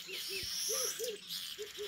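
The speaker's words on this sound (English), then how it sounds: "Birds, you can hear this" Forest birds calling at dawn in Kibale Forest, a series of soft repeated cooing notes under brighter chirps and whistles, fairly close and clear.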